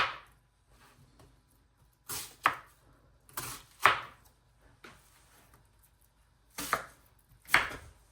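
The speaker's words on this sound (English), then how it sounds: "Cutting up some onions." Knife chopping onions for soup on a cutting board, several sharp separate chop bursts with short pauses between them, close and clear.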